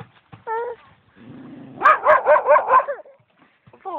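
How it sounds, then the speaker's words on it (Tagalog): A dog lets out a quick run of four or five loud, close barks, with a brief yelp just before and some soft background noise. "Kinakahulang ka ng aso,"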